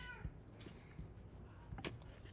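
A cat meows indoors, one short faint cry near the start followed by a sharper, louder meow toward the end, amid small room clatter and quiet movement.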